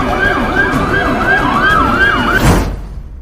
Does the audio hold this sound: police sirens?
yes